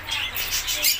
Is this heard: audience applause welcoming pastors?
no